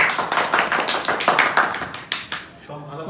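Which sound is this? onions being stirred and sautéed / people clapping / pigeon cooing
people clapping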